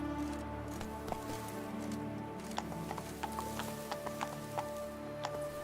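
Hooves of the horse Roach gallop in The Witcher 3, a quick irregular clip-clop over a steady game ambience, moderately close.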